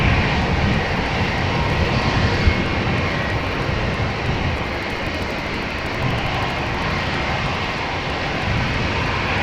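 A KLM Airbus A321, fifteen years old, departs Schiphol for Madrid with a loud, steady jet engine roar that holds broadband and unbroken throughout, with no voices over it.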